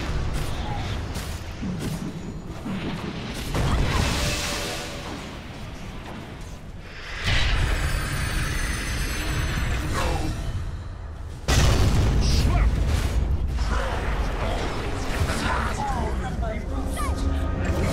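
Dota 2 match action while a tower is under attack: booming impacts and whooshing bursts rise and fall in waves, with commentators talking over the loud in-game combat throughout.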